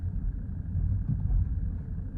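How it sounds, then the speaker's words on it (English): A steady low engine rumble from inside a moving BMW 218i Gran Tourer, labouring in third gear, deep and droning without pauses. "as I labour the engine in third into second"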